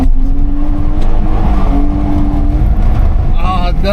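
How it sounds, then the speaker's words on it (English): A BMW E30 325i Sport held in an on-the-spot burnout, its engine roaring loud and steady at high revs, with a tone that wavers and rises toward the end amid a dense tyre and exhaust roar. "I'm gonna try and do a burnout on the spot and then flick it round"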